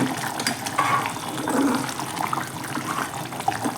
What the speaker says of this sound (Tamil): கொதிச்சிச்சான்னு பார்க்கலாம் நல்லா கொதிச்சிச்சு மொத்த குழம்பு ரெடி ஆயிடுச்சு